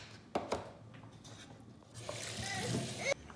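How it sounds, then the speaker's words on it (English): Water poured into a cooking pot of chicken seasoned with garlic and salt, a close, rising wash of splashing and trickling that swells over about a second and a half after a few faint knocks. "And then I'll add water."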